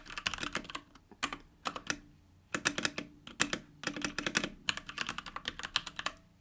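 Someone types on a computer keyboard while writing CSS code: close, crisp keystrokes come in rapid bursts separated by short pauses, with no talking.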